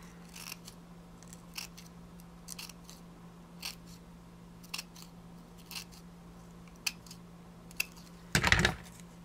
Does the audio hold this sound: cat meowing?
no